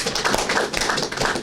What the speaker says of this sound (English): Let's clap for Roland.